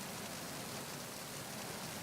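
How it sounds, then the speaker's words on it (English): Steady rain pours down in Metal Gear Solid 2, aboard a ship at night, a dense continuous hiss of drops on surfaces filling the scene evenly and alone throughout. "This rain is really well detailed"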